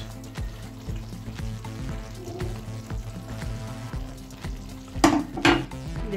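Onions are dropped by hand into a pan of mutton and potato stew, giving a steady sizzle with light scraping and clinks, then two louder bursts of hissing near the end.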